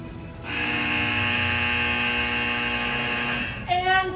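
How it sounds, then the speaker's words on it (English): A loud, steady electronic klaxon at a missile silo museum blares on one harsh buzzing tone for about three seconds, then cuts off as a voice begins speaking. "we're going to hear that klaxon alarm"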